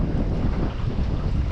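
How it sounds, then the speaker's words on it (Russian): Strong wind buffets the microphone in a continuous roar out on the water from a fishing boat as a thunderstorm approaches, with no voices. "Ветер туда, а туча прямо на меня идет."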